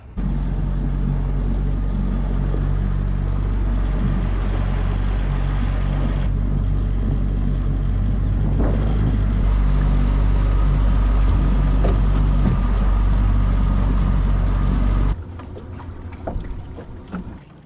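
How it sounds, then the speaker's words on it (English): An outboard motor idles out on a lake during a bass fishing trip, a steady low rumble that runs close and unbroken for about fifteen seconds before cutting out, leaving quieter ambient sound. "I'm gonna go ahead and idle back out of here"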